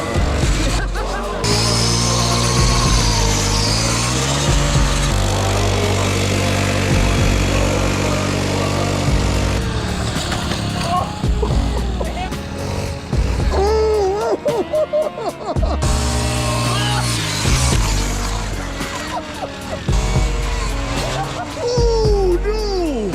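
An old, beat-up dirt bike revs and labours loudly up a hill climb, its engine note rising and falling in strained surges throughout, with a few voices calling out faintly over the noise.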